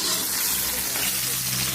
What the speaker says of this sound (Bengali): এদিকে আমাদের ঘি করলা ভাজা হচ্ছে গ্যাসে করছি